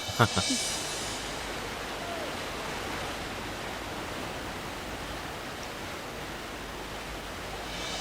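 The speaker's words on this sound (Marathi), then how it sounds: "मी तर तुम्हाला इथं वॉटरफॉल दाखवायला आणलं होतं." A waterfall heard as a steady, broad rushing roar of falling water, continuous and even throughout, with a brief knock at the start.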